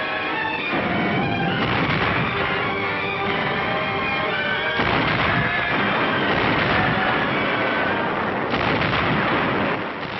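Sustained 155mm howitzer artillery fire in a wartime coastal duel, loud and continuous rumbling with sharp booms recurring every few seconds, thick and unbroken throughout.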